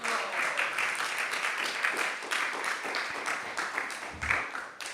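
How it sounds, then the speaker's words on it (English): Devotees at a Srila Prabhupada disappearance day gathering give a round of applause, a steady mid-level patter of many hands clapping with a slightly uneven rhythm, heard alone without talk. "Please, we are giving a big round of applause to them"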